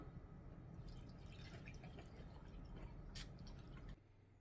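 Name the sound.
pouring a drink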